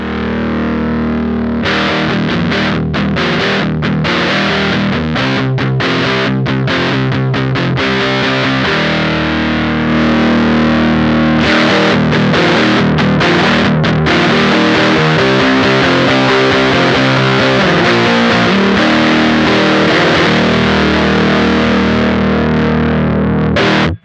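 Electric guitar through a Champion Leccy distortion pedal plays sustained, crunchy chords and riffs, loud and thick with gain, with no voices.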